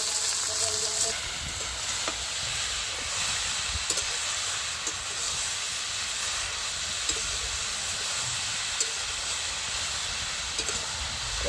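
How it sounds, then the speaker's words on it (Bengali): Bottle gourd pieces going into a hot pan with oil, giving a steady close sizzle and frying hiss throughout, with a few faint clicks of stirring. "আমি লাউটা দিয়ে দিচ্ছি।"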